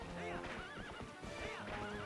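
A horse whinnies repeatedly in the video game Zelda: Twilight Princess HD, loud and close over a steady bed of game music and rumbling during a mounted fight.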